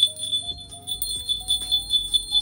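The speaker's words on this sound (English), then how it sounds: "These are the, by far, the nicest sleigh bells I've ever seen." A leather strap of Weaver Leather sleigh bells jingles in a steady, bright rhythm of repeated shakes, close and fairly loud with no talking.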